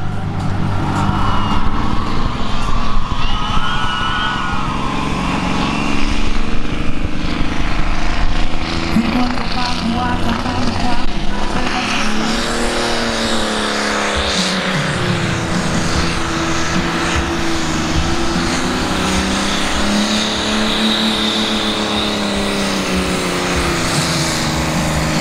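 Pro Stock 5,500 kg pulling tractor at a tractor pulling event in Arapoti, engine roaring loud and sustained as it runs the track, with pitch rising and falling and an announcer talking over it.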